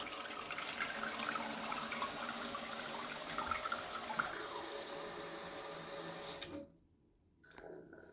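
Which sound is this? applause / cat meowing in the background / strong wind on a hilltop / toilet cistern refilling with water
toilet cistern refilling with water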